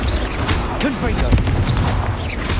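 Explosive blasting spell cast in Hogwarts Legacy gameplay, booming impacts with crashing debris and a few whooshing tonal sweeps, loud and continuous, alongside other combat effects.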